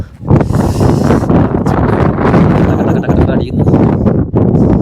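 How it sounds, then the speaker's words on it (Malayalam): Strong cold wind blows on an African volcano, roaring and buffeting loudly across the microphone without letup, with a voice heard briefly. "എവിടെത്തു എന്തെത്തു എങ്ങനെത്തു നല്ല തണുത്ത കാറ്റും"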